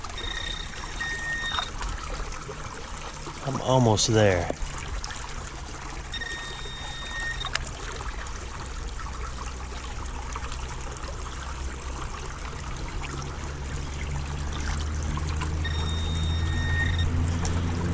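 Steady creek water trickles and flows continuously, a soft close babble throughout, with brief splashing and a short spoken remark partway through.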